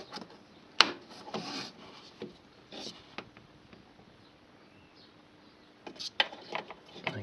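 Plastic indicator bulb holder on a Peugeot 307 being twisted counterclockwise, quiet close clicks, rubs and scrapes in short irregular bursts.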